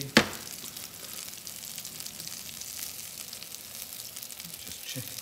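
Potato cakes frying in a pan give off a steady, close sizzle, with a brief clatter at the very start and no voices over it.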